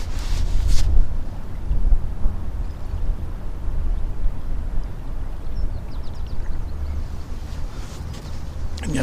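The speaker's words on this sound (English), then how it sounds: "there's a wee bit of a breeze today as well" A breeze blows along the shore at Dumbarton and Clydebank during a fishing outing, buffeting the microphone with a continuous low rumble that swells and eases, with a couple of brief faint noises over it.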